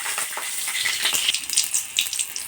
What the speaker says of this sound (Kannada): ಹಸಿಮೆಣ್ಸಿನ್ಕಾಯಿ ಎಣ್ಣೆಯಲ್ಲಿ ಚೆನ್ನಾಗಿ ನಾವು ಹುರ್ಕೋಬೇಕು